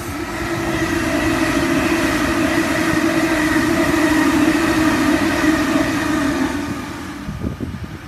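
A Waratah electric passenger train passes close by with a loud, steady roar and electric whine that swells and holds for several seconds, then drops away as the last cars go past.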